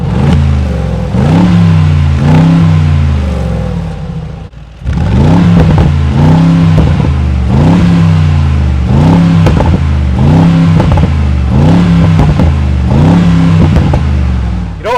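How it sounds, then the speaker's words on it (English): Repeated throttle blips from the exhaust of a 2020 Mercedes-AMG G63, loud and close, each rev rising and falling in a regular rhythm over about fifteen seconds with one brief dip midway. "before I let you listen to the exhaust"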